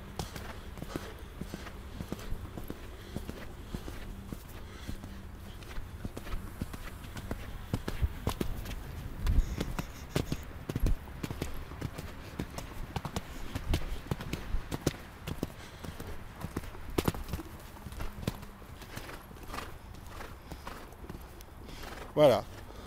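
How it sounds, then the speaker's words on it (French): A horse canters and counter-canters in a riding arena during a lesson, its hooves striking in a repeating three-beat clip-clop at moderate distance while an instructor's voice is heard over the footfalls. "Le cheval retombe sur son pied droit."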